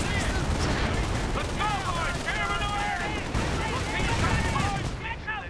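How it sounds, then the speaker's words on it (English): Machine gun fire from a nest in the World War II video game Company of Heroes rattles in continuous dense bursts, with distant booms mixed into the loud battle noise and a voice speaking over it. "Oh, they crawled in a machine gun nest for some incredibly ridiculous reason."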